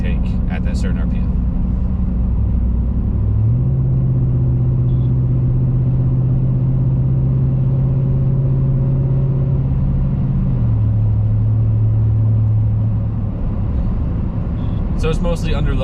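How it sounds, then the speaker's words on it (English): Intake drone from a K&N Blackhawk cold air intake on a 2021 Chevrolet Silverado Custom Trail Boss cruising at 60 mph around 1,500 RPM: a steady low hum inside the cab with road rumble, holding level before easing slightly near the end. "I'm gonna shut up and you can hear the intake at that certain RPM."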